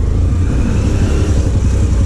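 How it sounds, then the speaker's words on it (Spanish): A small motorcycle engine runs steadily and close, giving a continuous low, rumbling drone with a slight rough pulse throughout, heard without any talk while riding through a town. "Yo por eso amo esta motito."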